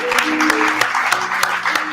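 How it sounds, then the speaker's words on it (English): An audience at a storytelling fundraiser claps steadily, a dense patter of hands at close range, while a voice speaks over the applause. "Give another round of applause for him."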